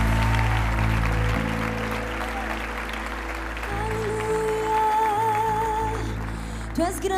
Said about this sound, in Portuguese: levante as suas 2 mãos e celebre, aplaudindo aquele que é digno de toda glória